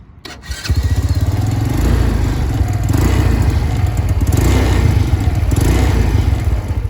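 A Venom X22 GT 125cc motorcycle is started with a short crank, then settles into a loud, steady, close idle for several seconds.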